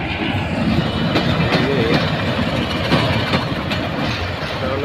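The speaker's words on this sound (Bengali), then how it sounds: "এটা হলো রেলগাড়ির ইঞ্জিন" A train locomotive at Dhaka's Kamalapur railway station, a loud continuous rumble of engine and wheels with rhythmic clicking, heard close.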